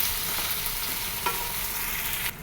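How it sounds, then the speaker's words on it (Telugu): A pan of spiced food with turmeric and salt is stirred over a soft continuous sizzle, with a few faint scrapes before the sound drops off near the end; no one speaks. "ఒకసారి కలుపుకోండి."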